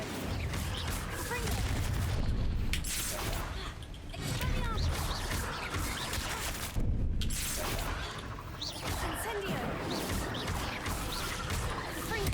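An Incendio fire spell cast in the Hogwarts Legacy video game, heard as a dense, loud burst of crackling, booming blasts within continuous game action and effects, with occasional brief lulls.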